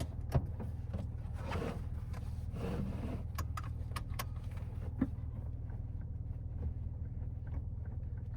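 A 1986 Acura Legend 5-speed drives along, heard from inside the cabin as a steady low engine hum with road noise and scattered clicks and rattles.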